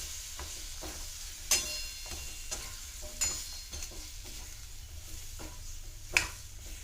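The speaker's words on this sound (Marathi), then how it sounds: "आता यामध्ये टाकायचं आपल्याला 1 वाटी बटाटा, अर्धी वाटी फ्लावर, याला परत परतवून घेऊ।" Potato and cauliflower are stir-fried in a pan, with a low steady sizzle broken by repeated spatula scrapes and a few sharper metallic clanks against the pan, close by and without talk.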